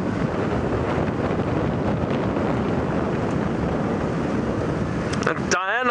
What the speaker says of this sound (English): It's quite windy out in this clearing around the airstrip.